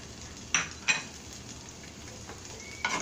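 Onion and epazote leaves frying in lard: a low steady sizzle, broken by three quick metallic scrapes of a spoon against the pan, with no speech.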